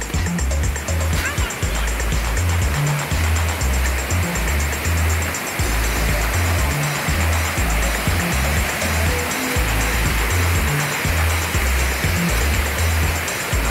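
A powerful river current after rain roars steadily near La Chorrera waterfall in Paicol, Huila, Colombia, a dense, loud, unbroken rush of water over rocks, with a low rhythmic hum beneath it throughout.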